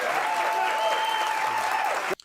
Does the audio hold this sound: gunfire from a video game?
no